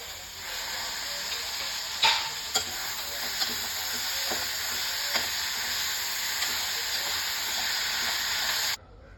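Tomatoes fry and get stirred into onions and garlic in a pan for mushroom gravy, giving a steady loud sizzle and hiss throughout, with a few sharp scraping clinks from the stirring spoon, ending abruptly.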